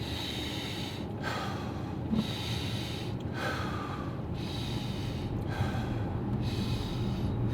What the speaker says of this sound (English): 6 deep breaths